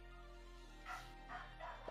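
A dog barks faintly in the background, three or four soft yaps spaced about every third of a second over a low steady hum, during an online Among Us game call.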